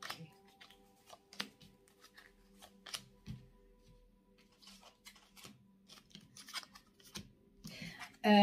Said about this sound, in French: je mets les cartes et je vous dis